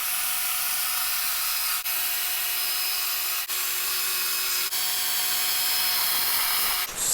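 A chainsaw carving a snowman out of packed snow, its engine running as one continuous, loud, close roar with only a few brief dips in pitch and level.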